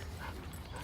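A dog whimpers and yips excitedly at a squirrel in a park, faint brief whines over a noisy outdoor background.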